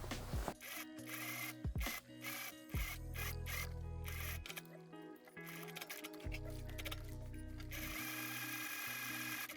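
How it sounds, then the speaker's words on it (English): A sewing machine stitches bias binding onto the front piece of a baby doll dress, running in several loud, sustained bursts separated by short stops and fabric handling, with no voices. "And now I'm just gonna stitch this onto my front piece."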